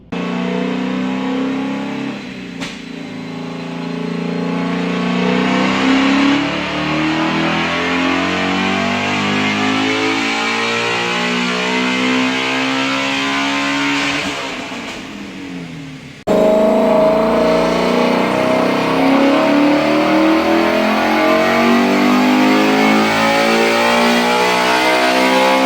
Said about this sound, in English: Now let's show you guys the dyno pull of the 500 wheel horsepower GT350.